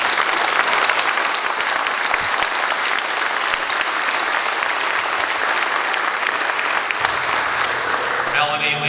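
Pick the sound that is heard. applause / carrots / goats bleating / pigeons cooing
applause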